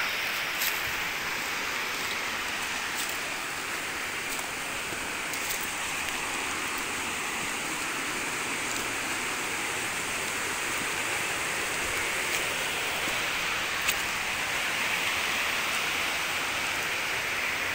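A steady, broad rush of falling water fills the scene, constant and fairly loud with no voices, from Deai Falls in a rocky gorge in Shingu, Japan, heard from nearby.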